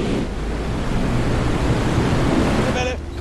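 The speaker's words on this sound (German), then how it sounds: "Große Welle! Große Welle!" A big ocean wave crashes in Uncharted 3, a loud, sustained roar of surging water and wind that fills the whole stretch, with a voice faintly audible near the end.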